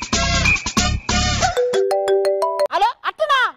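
A phone ringtone plays a short run of electronic tones on a comedy stage show, loud and close, while speech overlaps the tones.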